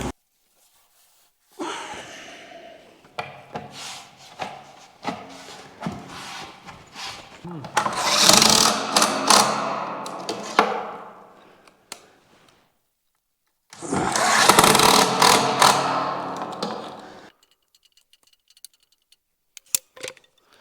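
A Chinese-made plate compactor pounds gravel at a septic tank installation. Two long, loud, rumbling runs come through close by, separated by quieter shovel scrapes and clatter.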